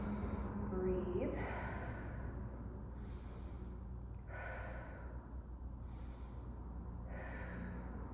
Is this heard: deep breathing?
yes